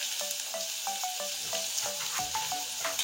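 Chopped onion sizzles in hot oil in a home kitchen pan for an egg and potato curry, a steady close frying hiss with light stirring clicks and no talk.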